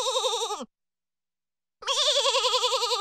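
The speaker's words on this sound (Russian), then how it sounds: "А вот козы." Goats bleat in two loud, wavering calls with a clear gap of silence between them, close and clean with nothing else around them.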